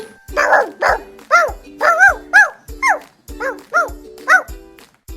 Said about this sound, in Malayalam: ഡോഗ് വന്നെന്തോന്നേ? കൊരക്കുന്ന ഒച്ചയൊക്കെ കേൾക്കുന്നുണ്ടല്ലോ.